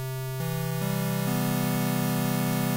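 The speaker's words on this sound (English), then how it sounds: "This is the sawtooth wave." A bright, buzzy sawtooth-wave synthesizer tone from the Subtractor synth steps upward through four sustained notes, loud and continuous with no pauses.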